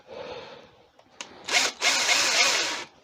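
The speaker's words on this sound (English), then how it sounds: "drill a hole at an angle. Right, go in straight first" Power drill boring a hole into wood during a woodturning project, with a short whir, a brief pause, then a loud sustained grinding bite as the bit cuts into the wood, near and alone.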